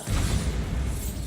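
A Bombarda spell explosion in Hogwarts Legacy, a deep booming blast that hits suddenly and rumbles on with a low, sustained roar for about a second, loud and close.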